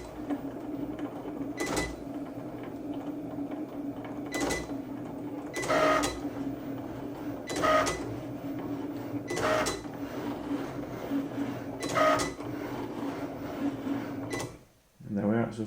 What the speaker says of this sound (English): So it's now printing the smaller letters, obviously. When I say printing, I mean cutting.